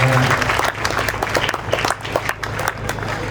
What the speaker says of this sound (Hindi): थोड़ा तालियां बजाकर